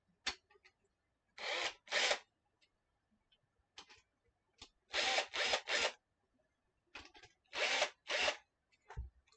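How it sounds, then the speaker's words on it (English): A PT-3 screen printing frame has its mesh tightened in several short bursts of a whirring, ratcheting tool, each lasting about half a second. Quiet ticks and clicks fall in the pauses between them, and no one speaks. "And all this is doing is tightening the mesh."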